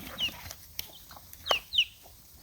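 Chickens on an off-grid homestead give scattered clucks and sharp squawks. A few distinct calls stand out over a low, quiet outdoor background.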